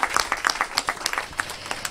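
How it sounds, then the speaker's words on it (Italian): An audience at an Italian awards ceremony claps warmly, giving a sparse, irregular patter of individual hand claps that sounds like a modest crowd, with no voices over it. "accogliamola veramente con un applauso calorosissimo."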